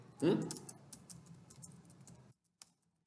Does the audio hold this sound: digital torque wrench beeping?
no